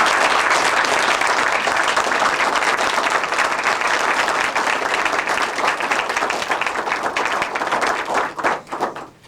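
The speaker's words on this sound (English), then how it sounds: "let's all give these wonderful journalists a round of applause" A room applauds journalists at an Army journalism awards ceremony at the Pentagon, dense sustained clapping that thins and fades out near the end.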